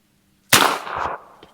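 A single sharp shot from a .357 Magnum carbine rifle cracks loudly outdoors, followed by a brief decaying echo.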